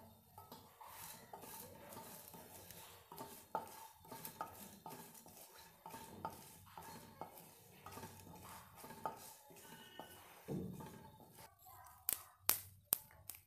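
Tempering spices frying in oil in a kadai for coconut rice, a faint low sizzle under repeated close clinks and scrapes of a metal spoon stirring the pan, ending with a few sharp knocks.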